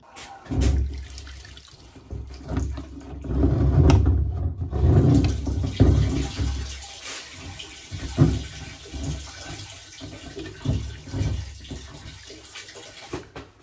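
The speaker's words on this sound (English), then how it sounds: "I'm just going to clean it up with some soap" Soap and water wash over a whitetail deer skull in uneven splashing, running bursts from a tap or sink, close and fairly loud, rising and falling throughout with no speech.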